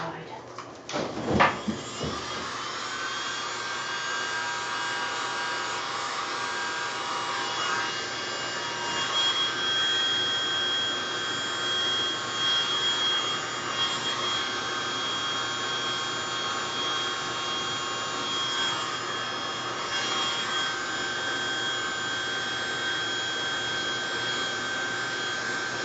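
A blower pushes a steady, even rush of air, holding a constant whooshing hiss with a faint whine throughout after a few brief knocks at the start.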